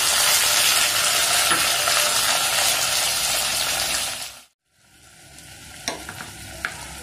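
Onions and cut potatoes fry with ginger-garlic paste in hot oil, loud steady sizzling under stirring that cuts off abruptly, then returns as a quieter crackle with a few sharp clinks.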